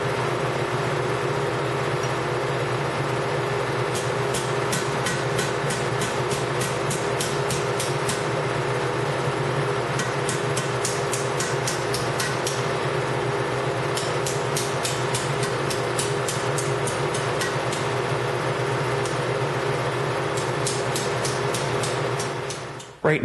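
Thin metal struck cold around an anvil horn to form the collar for an ammo can stove's smokestack. Quick bursts of rapid, ringing hammer taps repeat over a loud, steady background hum.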